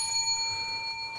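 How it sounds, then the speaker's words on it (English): A single bell rings as a prize on a sports talk show and rings on in a clear, steady sustained tone that fades slightly over about a second, with no talking. "Adam Black got it before I said it, so he gets a Kevin Vick Memorial Bell."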